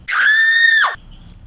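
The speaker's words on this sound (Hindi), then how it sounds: "ये लोग ने वो देखा और ज़ोर से चिल्लाए" One loud, close, drawn-out scream of fright, a single shrill cry held for most of a second before breaking off, alone against near silence and then faint background noise, used as a horror story effect.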